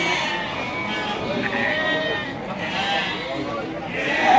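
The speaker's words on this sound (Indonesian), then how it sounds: "domba" Rams bleating at Pasar Wage livestock market in Bumiayu, several calls rising over a busy crowd murmur and nearby voices, the market noise swelling toward the end.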